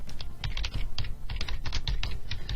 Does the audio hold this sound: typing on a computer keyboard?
yes